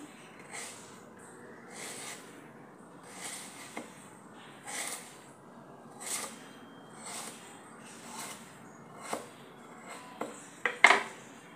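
A knife scores a potato crosswise, cutting partway without slicing through: about nine crisp, evenly spaced cuts close up, ending in a few quicker, sharper knocks, with no talking.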